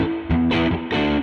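Distorted electric guitar played dry, without the Source Audio One Series EQ2 pedal, a few loud sustained chords changing in quick succession, thick and gritty with a strong low end.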